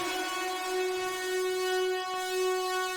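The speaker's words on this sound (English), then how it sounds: "get that siren out of everybody's ears" A steady, unwavering siren tone holds one pitch with rich, buzzy overtones, sounding alone and fairly soft throughout with only slight swells in level.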